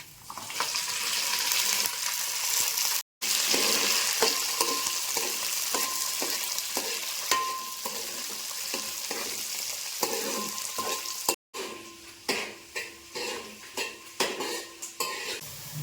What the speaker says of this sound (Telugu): ఇప్పుడు ఉల్లిపాయ ముక్కలు కరివేపాకు వేసుకోండి